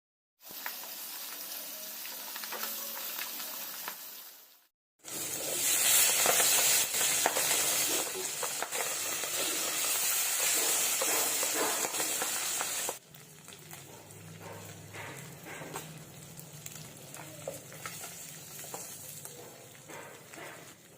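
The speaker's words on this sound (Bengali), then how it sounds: "এবার একই প্রসেসে আমি বাকি মাছগুলো ভেজে নিচ্ছি।" Pabda fish frying in oil in a pan, a bright hissing sizzle that swells loudly when pieces are added, then settles into a softer steady crackle with occasional stirring clatter.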